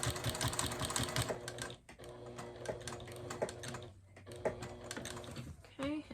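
A sewing machine machine-binds a quilt, its needle chattering in quick bursts that stop briefly and restart, close and fairly quiet, with small handling noises between runs.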